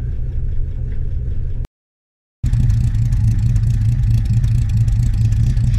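A car engine idling at about 700 RPM on a near-standard exhaust, freshly fitted with a new cooling system and three-core aluminium radiator, running as it warms up. It gives a steady, loud, close rumble, broken by a short gap of silence.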